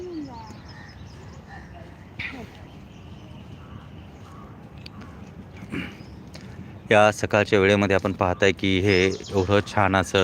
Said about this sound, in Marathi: या ठिकाणी चिमण्यांची देखील आवाज येत आहेत